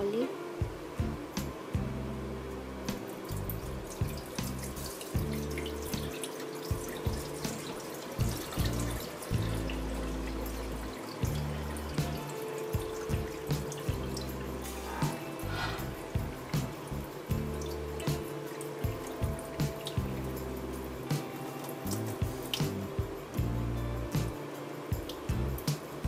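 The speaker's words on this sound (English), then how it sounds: "Now I'm going to remove the water" Water is poured off soaked yellow laphing batter, trickling and splashing steadily for a long stretch, with soft irregular drips and pours close by, fairly quiet overall.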